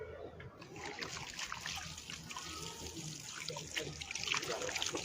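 Water is poured to rinse a body's fingernails during an Islamic funeral washing, a soft uneven trickle and splash, with faint voices nearby.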